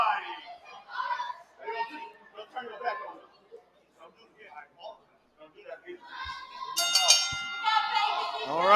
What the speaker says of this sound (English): bell rings, match underway